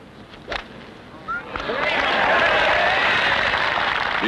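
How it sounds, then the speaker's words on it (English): Golf gallery applause at a 1968 tournament, a burst of clapping and crowd noise swelling up after a quiet moment with faint voices, then holding steady. "The applause tells the story."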